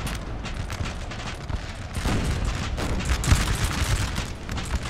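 Musket volleys and cannon fire crackle and thud continuously in a Napoleon: Total War battle, dense overlapping shots with a louder burst near the end, no talking.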